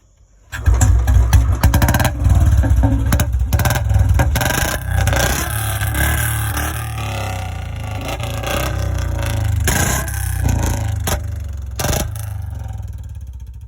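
A Royal Enfield 350 motorcycle with a free-flow bend pipe exhaust idles loudly up close, its deep thumping exhaust note running steadily with a few sharp blips and revs throughout.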